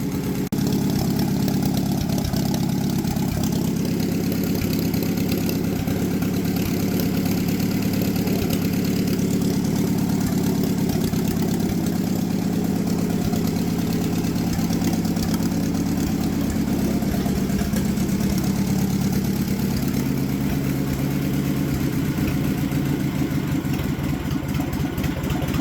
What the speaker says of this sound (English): All right, I think we have a running engine.